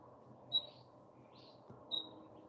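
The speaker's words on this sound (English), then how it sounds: "Noisy bird." A bird gives two short, high chirps about a second and a half apart. The calls are faint against a low, steady background murmur.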